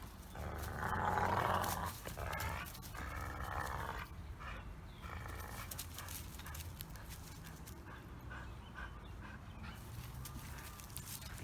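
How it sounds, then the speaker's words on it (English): Dogo Argentino puppy growling during play, a low rumbling growl that swells loudest in the first seconds and then continues as a steady, softer rumble with occasional whines, close by and with no talk. "he hears Jack growling"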